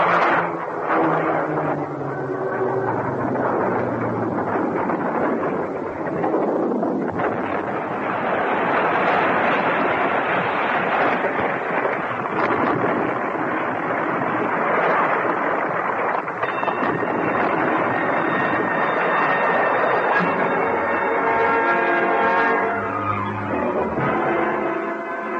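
A radio-drama effect of an airplane crashing: a loud, roaring engine drone swells into a wide rushing blast, holds as a sustained roar, then breaks into ringing, clattering tones near the end.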